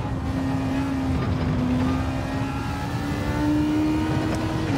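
BMW race car in a racing video game, a loud, sustained engine drone holding a steady high note that creeps slowly upward in pitch, close and continuous with no pauses and no talking.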